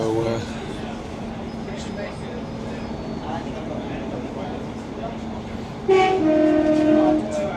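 Passenger train running on the main line toward Hellifield, a steady rolling rumble of wheels and carriage noise throughout, rising louder near the end, with voices talking over it.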